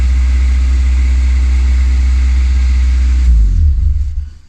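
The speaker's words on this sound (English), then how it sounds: "Oh, car turns on." An MK5 project car sits in a garage with its engine running at a steady, loud, close idle, then the note shifts briefly near the end before the sound fades away.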